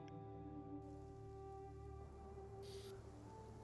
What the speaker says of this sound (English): It is a rainy day, windy, a gust billowing its way through the city.